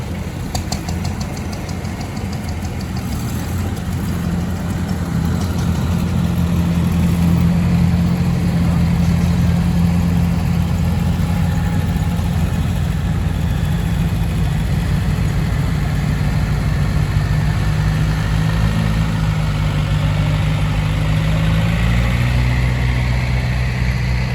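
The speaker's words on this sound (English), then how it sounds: "John Deere 1070 with a 440 loader pulling a trailer with a hit-miss engine on the back" A John Deere 1070 tractor fitted with a 440 loader drones loudly close by while pulling a trailer carrying a hit-miss engine, its engine note rising and shifting as it moves past, with a voice faintly underneath.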